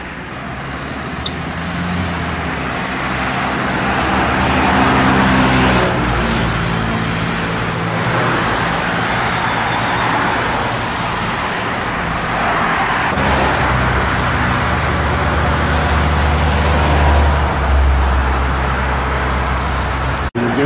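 Congested city traffic in Izmir on a strike day, with a steady, loud wash of car and bus engines idling and creeping close by, low rumbles swelling and fading throughout.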